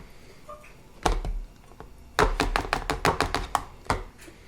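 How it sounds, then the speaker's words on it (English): Juice pulp is dumped from a manual juicer's strainer into a bowl, heard as a single knock followed by a quick series of sharp taps and thumps as the strainer is knocked against the bowl, close and fairly loud. "I'm just gonna dump this over into this bowl over here"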